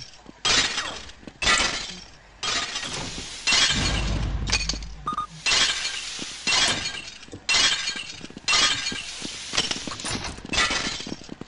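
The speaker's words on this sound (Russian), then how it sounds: "Это я стекло ломаю, если что." Window glass shatters again and again in a video game escape, with loud crashing breaks that come in bursts separated by short pauses and no talking over them.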